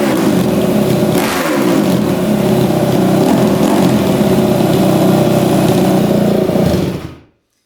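A dirt bike engine with an exhaust leak runs loud and close, holding a steady rough idle with a couple of rising revs early on before cutting off abruptly at the end.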